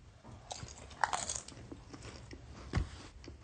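Coriander-flavored potato chips are bitten with a sharp crisp snap and then crunched and chewed a few times, fairly quiet and close, with no talking.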